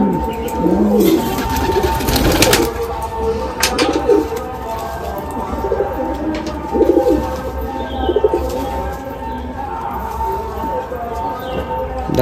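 Blind Madrasi pigeons cooing in repeated soft low calls, with occasional chirps and light clatter alongside, close by and fairly loud.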